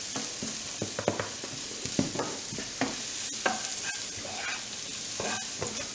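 Garlic and cumin sautéing in a pan for Cuban congrí, a bright continuous sizzle with frequent scraping and tapping of a spoon as it's stirred, close up with no voices.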